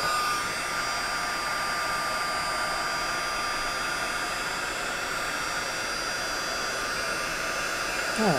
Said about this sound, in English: Now this heat tool is pretty hot right now, so it should emboss pretty quickly.